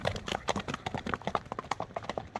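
Horse hooves clip-clop at a walk in a steady, close rhythm of sharp knocks, a Kyrgyz horse bought at an ulak (kok-boru) game, with no voices over the steps.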